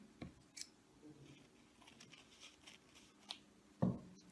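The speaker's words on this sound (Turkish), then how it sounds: "form fazlalığı da yine keseceğim" Scissors snip through leftover material from a paper form during a school visual arts craft activity, giving a few sharp, close cuts spread across the clip with one louder final snip near the end.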